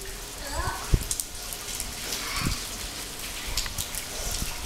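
Steady rain patters on a surface, with scattered louder drips standing out and faint voices in the background.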